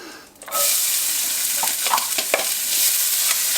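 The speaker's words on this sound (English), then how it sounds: "I'm going to add a half of an onion that I've chopped" Chopped onion sizzling in olive oil in a pan over medium heat, a steady loud fry with a few soft stirring scrapes, no voices.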